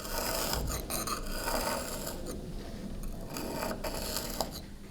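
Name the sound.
inlaying scagliola marble with hammer and chisel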